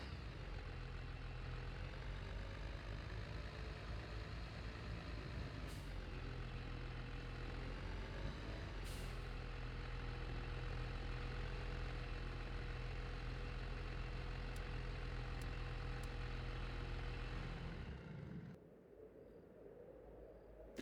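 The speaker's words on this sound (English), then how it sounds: "Now the tractor can just go beside it." Tractor engine in Farming Simulator 22 drones steadily at a low, even hum for most of the stretch, then drops away abruptly near the end, leaving a quieter background.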